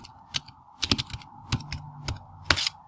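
Keys clacking on a computer keyboard as a short message is typed into a command line, a handful of crisp clustered taps at close range with no voices.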